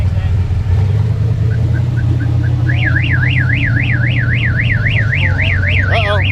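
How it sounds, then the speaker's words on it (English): A car alarm wails nearby, starting with short chirps then a fast rising-and-falling siren over a constant rumbling engine-like drone. "Uh-oh, set off the alarm."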